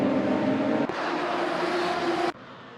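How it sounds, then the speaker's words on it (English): Radical SR3 race cars on track at Mugello in Assetto Corsa, a loud sustained engine drone with steady high whine for about two seconds, then cutting away abruptly. "They both dive past Niall Gagan on the run down the straight."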